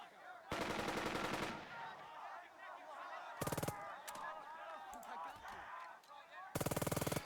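Bursts of machine-gun fire in the Burden of Command video game: three loud rapid strings of shots, with quieter scattered gunfire and battle noise between them.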